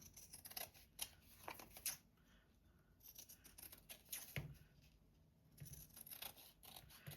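Scissors snip through thick cardstock for a fabric-covered paperclip project, several quick crisp cuts in short bursts, close and fairly quiet, with pauses between groups of snips.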